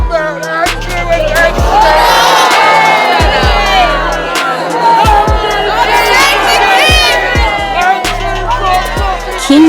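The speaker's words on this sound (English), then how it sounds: "King Charles III was heckled again in public as a voice from the crowd demanded answers about the former prince." At an outdoor walkabout by King Charles III in Lancashire, a large crowd chatters, shouts and cheers loudly and close, with several voices calling out over the steady din.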